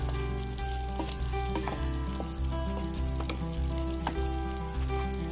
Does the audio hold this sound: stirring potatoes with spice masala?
yes